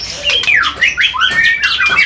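A caged songbird of competition quality, kept in a small house, sings loudly and close in quick sweeping whistles and squawky chirps, several rapid phrases with no pauses and no voices.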